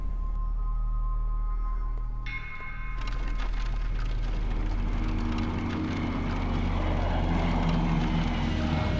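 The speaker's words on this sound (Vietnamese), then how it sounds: "Máy bay ở đâu ra thế?" Propeller airplane engine drones loud and steady, building as aircraft pass overhead in a wartime anti-Japanese drama scene, with dense rumbling throughout.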